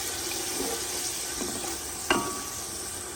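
Lassi poured into cooking masala for kadhi pakora, a soft continuous sizzle and liquid stir with a brief splash and clink near the end.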